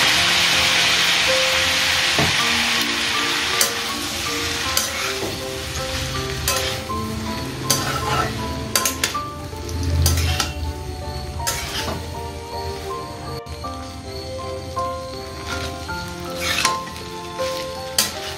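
Chicken kebab pasta stirred in a pan, with repeated close clinks and scrapes of a spoon against the pan over a steady sizzling hiss that rises and falls with the stirring.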